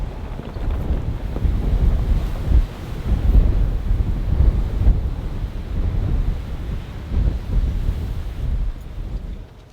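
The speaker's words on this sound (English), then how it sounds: "It is so windy." Strong, steady wind buffeting a body-worn microphone on a rough Arizona mountain 4x4 route, a continuous low roaring rumble with gusty swells for nearly ten seconds, no voices.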